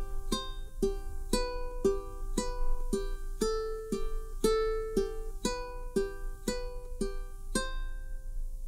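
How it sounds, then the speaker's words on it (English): A steady fingerpicked pattern on a ukulele, thumb and pointer finger alternating between strings, about twenty evenly spaced plucked notes repeating in a gentle, bright rhythm, close and clear with no voice. "What I'm doing is I'm playing the top string with my thumb,"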